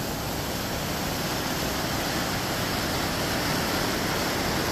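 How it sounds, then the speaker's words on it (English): Steady, dense roar of rushing river water near Black Bear Falls in Ouray, Colorado, a continuous broadband wash of falling and churning water that stays loud and even throughout, with no voices. "I believe up here is Black Bear Falls, I think, or part of it."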